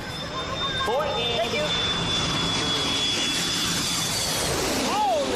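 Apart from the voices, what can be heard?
big airplane flying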